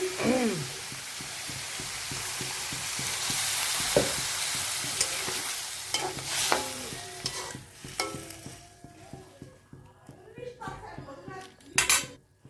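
Water poured into a hot sizzling pan while cooking bitter gourd curry, with steady frying hiss, spoon stirring and metal pan clatter close up, a few sharper clanks near the end.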